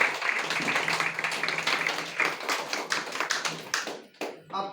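Audience applause at a DXN meeting, a dense sustained burst of many hands clapping that thins out into scattered claps near the end.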